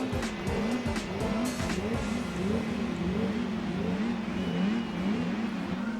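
Race car in Gran Turismo 4 launching off the line with wheel spin, a continuous engine drone rising and falling in pitch with tyre squeal, steady and close with no voices.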